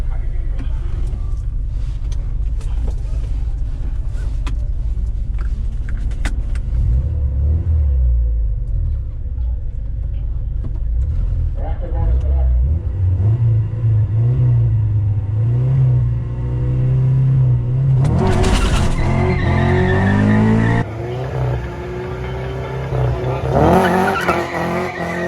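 Honda Civic with a B20 VTEC engine drag racing, loud engine rumble with rising revs and a sharp acceleration burst with tire noise near the end, voices talking over it at times.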